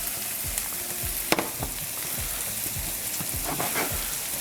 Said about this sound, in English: Nice and coated with some butter and the oil. Let this cook down just a bit.